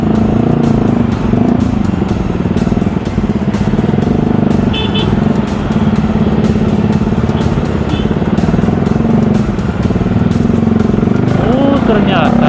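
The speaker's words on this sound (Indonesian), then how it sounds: "Kita bertemu dengan macet saudara-saudara." A traffic jam of motorcycles and cars in Ambon, held up near a demonstration, fills the air with dense engine drone, rumbling and occasional short horn toots, while a rider talks over the steady roar.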